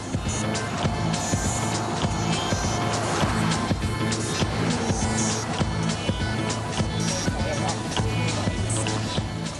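An Aston Martin DB9 laps the Nardò test track at high speed, its engine a steady, loud roar with rising and falling whine, while someone narrates over it.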